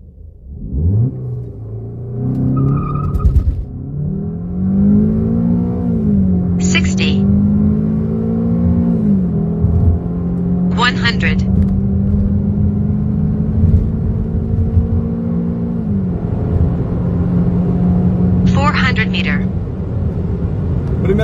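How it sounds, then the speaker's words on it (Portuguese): Remapped Ford Focus 2.0 Duratec with Powershift gearbox pulling hard in a drag run, engine note rising steadily through repeated gear changes with brief high-pitched bursts between shifts, loud and close throughout. "Primeira puxada, Focus Duratec, fazendo break boost, galera."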